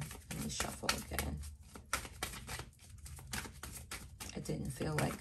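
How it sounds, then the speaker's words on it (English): Tarot cards are shuffled in quick papery riffles and soft slaps, a continuous close rustling under faint background noise. "Hold on, let me shuffle again."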